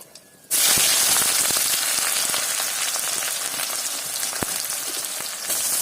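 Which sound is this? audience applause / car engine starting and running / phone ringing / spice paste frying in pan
spice paste frying in pan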